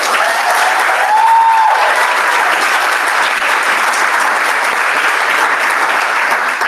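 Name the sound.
meeting audience applause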